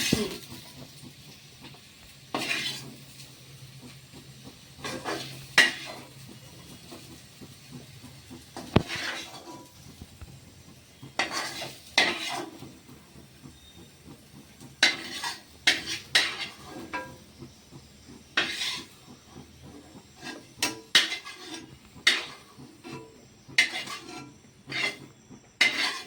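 Fried potatoes are lifted out of a hot oiled pan with a metal utensil, giving irregular clinks and scrapes against the pan over a soft frying hiss, with no voices.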